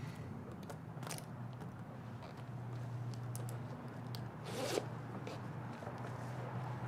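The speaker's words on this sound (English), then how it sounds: "Gonna zip this bad boy up." A wet jacket being zipped up: faint scattered clicks and rustles under a low hum, then one brief, louder zip pull near the end.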